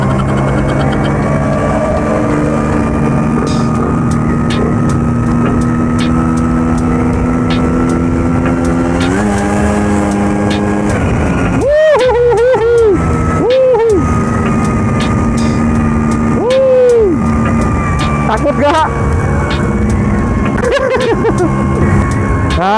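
Vespa scooter engine while riding on the road, a loud steady droning hum with rising and falling revs partway through, close and continuous with wind rush and brief passing sounds.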